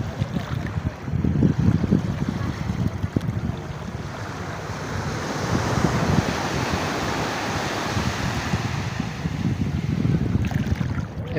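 Surf rolls in steadily at Patenga sea beach in Chattogram as the tide rises toward sunset, a continuous broad wash of breaking waves with wind buffeting the microphone, no voices.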